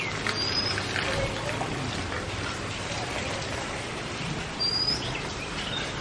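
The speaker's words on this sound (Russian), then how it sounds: "слышите, птицы запели" Faint bird chirps rise now and then over a steady wash of rain noise in India, distant and sparse.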